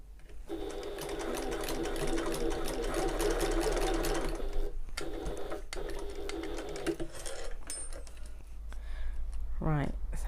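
A sewing machine runs steadily for about five seconds, basting together the fabric ends of a bag, then stops and starts again in shorter bursts amid handling noise, with a brief voice near the end.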